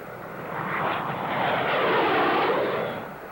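A low-flying airplane roars past, its broad engine drone swelling and fading smoothly over a few seconds with no other sounds.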